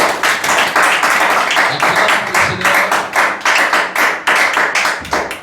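A church congregation claps in acclaim for the Lord, a loud, dense, continuous wave of many hands pounding together in a steady rhythm without any talking.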